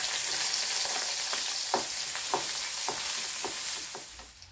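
Onion, green chilli and ginger fry in a pan with a continuous close sizzle, punctuated by a series of soft scraping stirs at irregular intervals, fading slightly at the end.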